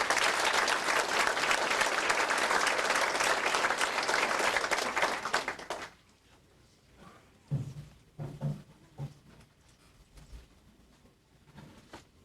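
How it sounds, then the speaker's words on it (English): Loud, dense applause from a crowd fills the first half, then stops abruptly, leaving quiet room noise with a few thumps and murmurs. "I'd like everyone in the room to give them a big round of applause."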